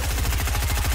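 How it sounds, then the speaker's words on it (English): Rapid steady gunfire in the Fortnite battle royale video game, a loud continuous burst of evenly spaced shots filling the whole second. "Somebody else shooting."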